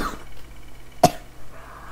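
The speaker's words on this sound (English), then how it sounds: "Got a really bad cough." A single short, sharp cough at about the one-second mark stands out over a steady low hum of background game noise.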